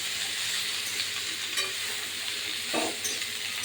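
Bottle gourd greens seasoned with salt and turmeric sizzling quietly in a pan, with soft scraping stirs and a couple of brief clinks over a steady gentle hiss, no talking.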